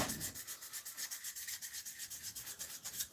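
Sandpaper of 800 grit is rubbed back and forth over a knife blade in quick, even strokes, a close, soft rasping rhythm of roughly six strokes per second, heard alone.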